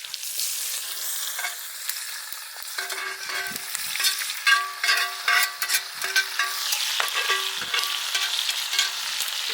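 Diced celery, carrots, onion and garlic sauté for an Italian beef stew on a woodstove in a canvas cabin tent. A steady close sizzle is broken by repeated scraping and clinking of a utensil stirring the pan.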